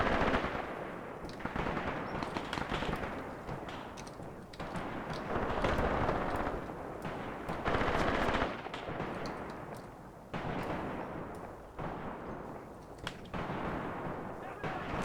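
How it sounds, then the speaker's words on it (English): Heavy machine guns fire in the WWII tactical video game Graviteam Tactics, a dense rumble of bursts and distant booms that swells and fades in waves across the battle. "the heavy machine guns are arriving where I want them to, and they are starting to shoot at the enemy"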